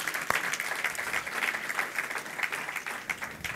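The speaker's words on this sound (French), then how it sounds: "Est-ce qu'on peut juste l'applaudir, Pasteur Jim?" A church congregation applauds for their pastor, steady dense clapping from many hands filling the room at even loudness throughout, with no voices over it.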